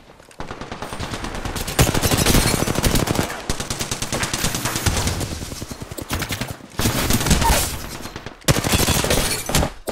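Gunfire from the charge rifle and other weapons in the video game Apex Legends fills the whole stretch, with loud, rapid bursts broken by a few brief pauses. No one speaks.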